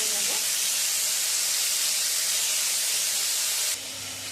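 Salted potatoes fry in a hot pan with a loud, steady hiss and sizzle while being stirred, the spray-like crackle dropping slightly near the end.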